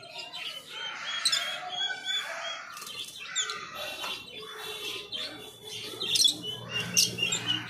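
Two pairs of lovebirds, a rosy-faced pair and a Fischer's pair, chirp and tweet while being released into an aviary, with bright, busy calls in quick bursts and some flapping, fairly close.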